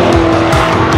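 A car in a controlled drift skids with squealing tires at high speed during a Guinness record attempt, a loud continuous engine and tire howl that fills the whole moment.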